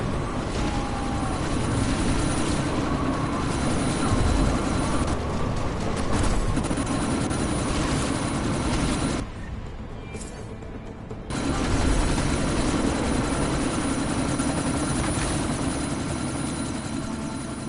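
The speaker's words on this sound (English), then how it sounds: "you need to disable that chopper" Helicopter in the video game Deus Ex: Mankind Divided during a sandstorm, a steady droning rotor and engine roar that stays loud throughout, dipping briefly before surging back, with no one speaking.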